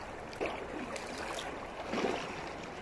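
Water sloshing and splashing as a person lowers into an ice hole cut in a winter fishing pond, the water about 6 °C; two soft surges of movement over a steady watery wash, fairly near and quiet.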